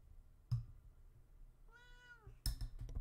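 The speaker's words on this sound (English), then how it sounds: "Oh, a little cat noise for the day." A house cat meows once near the microphone, a clear rising-and-falling cry in the middle of an otherwise quiet room, between a couple of soft knocks and bumps.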